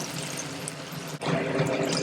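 Water pours steadily into a pan while upma is being cooked, a continuous splashing stream that briefly cuts out and then resumes a little louder.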